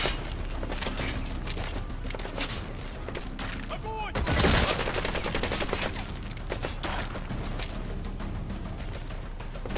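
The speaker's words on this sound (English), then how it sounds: "that gunfire coming from over there?" Gunfire in the video game Metal Gear Solid V, dense crackling bursts and rapid shots running continuously with a louder blast midway, mixed with game sounds and faint background voices.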